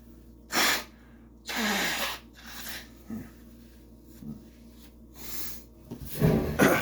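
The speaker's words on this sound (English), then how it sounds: "Blow my nose." Several bursts of forceful nasal blowing and snorting, close and loud, separated by pauses with quieter breathy rustling between them.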